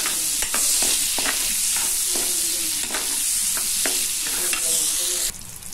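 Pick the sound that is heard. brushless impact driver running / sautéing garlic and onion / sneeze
sautéing garlic and onion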